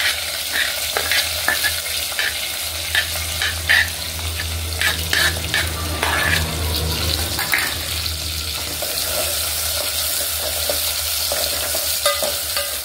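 Sliced onions and green chillies fry in hot oil with cumin seeds, crackling loudly and close. A spoon scrapes and stirs the pan at intervals, and no one speaks.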